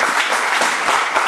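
A church congregation applauding during a French-language sermon, a dense, loud, steady wash of clapping from many hands filling the space.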